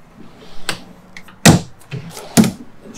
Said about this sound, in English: These doors are soft close.